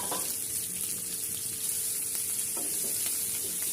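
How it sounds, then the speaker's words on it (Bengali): Onion, garlic, green chillies and dried chillies fry in hot oil for spinach bhaji, giving a steady close sizzle with faint stirring scrapes and no voices. "পেঁয়াজ, রসুন, কয়েকটি কাঁচামরিচও দেব। তারপর ভালো করে ভেজে নেব।"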